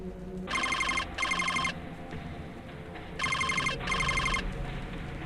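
Telephone ringing in a video game: two bursts of bright, rapid electronic trilling, a pause, then two more bursts in the same pattern, clear and fairly close over a low ambient backdrop.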